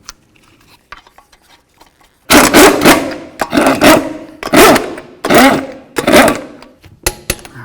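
Lug nuts on a 2008-12 Chevy Malibu front wheel being driven and snugged, loud close bursts of ratcheting and mechanical whirring in several separate runs, after a quiet stretch of faint handling clicks.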